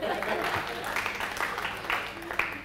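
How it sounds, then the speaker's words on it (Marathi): An audience claps at a National Science Day science talk, giving a short burst of applause with voices heard through it. "घरच्यांसाठी पण टाळ्या वाजवा."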